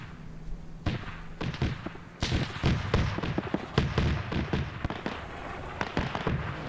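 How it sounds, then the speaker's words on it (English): Airstrike explosions in a WW2 combat game, a dense barrage of booming blasts and cracking impacts rolling over one another in quick, irregular succession, loud and continuous. "And he's getting strafed in a freaking airstrike."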